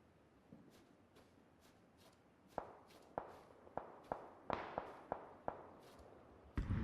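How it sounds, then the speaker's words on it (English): Far-off gunshots near a church on a PUBG map ring out as a sparse series of sharp cracks, faint at first and then more regular, with quiet gaps between them and a louder close sound at the very end. "Shots near the church, I would guess"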